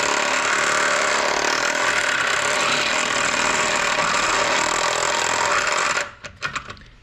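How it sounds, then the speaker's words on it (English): Edges of an ABS plastic fender cutout on an EK Civic are sanded with a power tool, a continuous loud buzzing grind that stops abruptly near the end, followed by a few light knocks. "just sort of sand around the edges and just make it so all we see is the ABS plastic"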